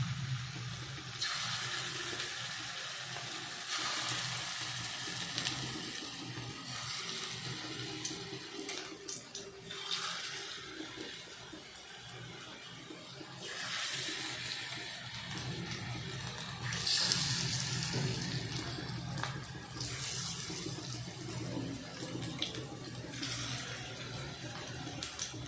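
Green banana (raw plantain) fritters dropped one at a time into hot oil in a kadai, hissing and sizzling in a steady, fairly loud crackle that swells slightly as more fritters go in, with no talking.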